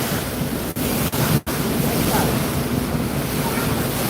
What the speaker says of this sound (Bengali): দেখতে পাচ্ছেন লঞ্চটি ধীরে ধীরে ঘুরছে মোড়টি